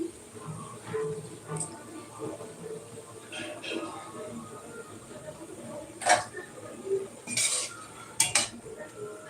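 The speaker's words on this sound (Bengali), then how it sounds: "এটা হচ্ছে তালের বড়া ভাজছি এখন" Metal utensils clink and scrape now and then while palm fruit fritters fry in a home kitchen, quiet background noise with occasional sharp clatters.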